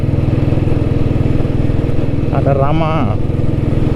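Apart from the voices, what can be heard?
vintage Royal Enfield Bullet motorcycle engine while riding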